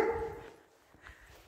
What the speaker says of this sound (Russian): Cani, собаки везде.